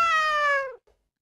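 A meowing calf sound effect: one drawn-out, tonal meow heard alone and clear, trailing off with a faint short tail at the end.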